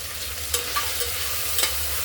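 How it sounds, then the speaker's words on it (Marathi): Beans, potato and cauliflower sautéing in a pan for soybean pulao, a continuous sizzle with a couple of brief spoon clinks and scrapes, no talk. "बीन्स 1 मिनिटभर परतून घेऊ"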